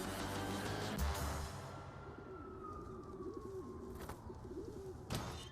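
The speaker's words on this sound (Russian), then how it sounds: "Приставучие птицы." Pigeons coo close by in a low, repeated throaty warble, while a faint siren-like tone glides downward in the background and sharp noise bursts briefly cut across.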